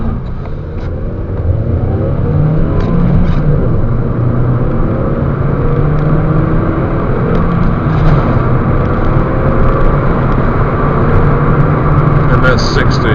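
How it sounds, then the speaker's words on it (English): Ford Focus Zetec accelerating hard from 0 to 60 on a road test, a steady engine drone with road and wind noise holding loud throughout, with no clear gear changes standing out. "Do a 0 to 60 test now."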